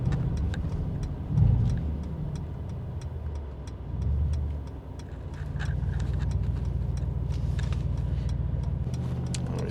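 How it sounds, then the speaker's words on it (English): A Mercedes-AMG G63 with a V8 bi-turbo engine drives through town: a low, steady engine drone rises in two brief swells, then settles into a firmer sustained rumble, with faint ticking over the top. "You really can't beat the sound of a Mercedes V8 bi-turbo engine."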